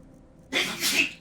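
A single sharp sneeze bursts out close to the microphone in a quiet room, a brief breathy explosion lasting under a second against faint background hiss.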